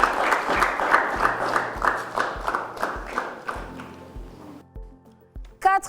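Audience applause on a French television show: brisk, rhythmic clapping in a studio under a driving musical beat, thinning out toward the end as the music continues.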